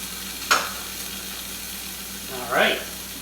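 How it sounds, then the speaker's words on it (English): Bacon frying in a pan on low heat: a soft, continuous sizzle with two brief, sharper scraping or stirring bursts, one early and one near the end. "Now I'm going to cook this bacon."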